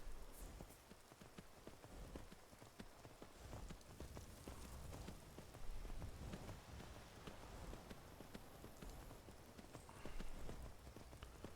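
Horse hooves clip-clopping in a fantasy role-playing video game, a steady rapid rhythm of soft hoofbeats running on for the whole stretch, faint and even, with no talk over them.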